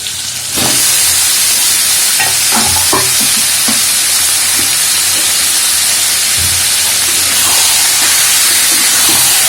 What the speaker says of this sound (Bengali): এর মধ্যে আমি এবার মিশিয়ে দেব 1 কেজি চিকেন।